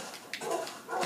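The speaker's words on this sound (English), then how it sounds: "My dogs are barking up a storm." Tamed dogs in Minecraft on Xbox give a few short, fairly faint barks and yips in quick succession over a second or so.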